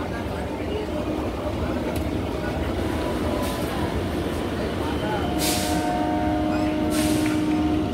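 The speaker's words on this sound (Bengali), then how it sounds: "দেখুন আপনারা দেখতে পাবেন মেট্রো যাচ্ছে, মানে স্টেশনে এলো মেট্রো।" A metro train pulls into Dakshineswar metro station, its steady rumble and rail noise running throughout, with brief brake hiss and squeal bursts near the end and voices talking over it.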